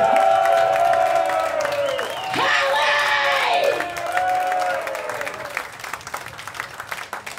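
A concert crowd at the Hell venue in Diest, Belgium claps, cheers and whoops for the drummer, with loud shouting and whistles that peak midway and then thin out into scattered applause.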